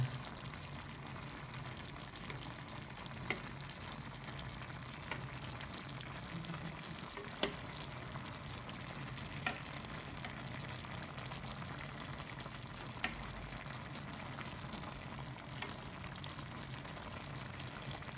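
Cauliflower sizzles in a pan as it cooks for a tajine with peas, a faint, steady fry and crackle with a few soft clicks and no talking.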